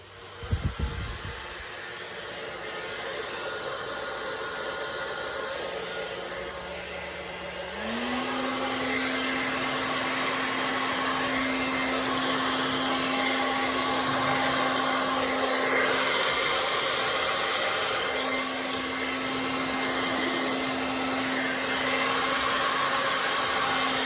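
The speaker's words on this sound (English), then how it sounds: "and then a little bit more with the heat gun" Heat gun blowing hot air over a Dutch pour ribbon pour of paint, a steady close whooshing roar with a faint higher hum, continuous and even for the whole stretch.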